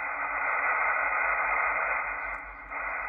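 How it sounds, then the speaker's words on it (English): Steady amateur radio static on the empty 28.074 MHz FT8 frequency during a geomagnetic storm, heard as a continuous even hiss with a low hum and a brief dip near the end. "It's just static noise."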